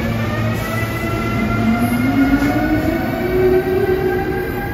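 A SEPTA Regional Rail locomotive-hauled train rumbles past at night, its sustained loud roar steady throughout, with a rising tonal whine from the engine and no voices.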